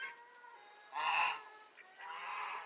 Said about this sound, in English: The Indian runner duck.